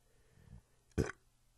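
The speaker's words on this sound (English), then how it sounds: "I burped there for a second." A man burps once, a short, loud, low eructation standing alone in an otherwise quiet moment, with a faint murmur just before it.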